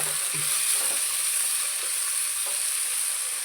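Two tomatoes cut lengthwise fry in a pan, making a continuous, even sizzle up close with faint occasional stirring knocks and no voices.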